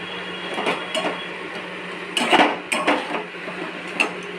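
Food being mixed with spices and salt in a bowl, with close, crisp clinks and scrapes of a utensil against the bowl in irregular bursts, with no talking.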